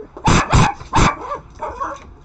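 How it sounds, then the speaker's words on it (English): Dogs barking during a Call of Duty: Black Ops III session, three loud close barks in quick succession followed by softer whimpering yips, with no talk over them. "my dogs are losing their mind."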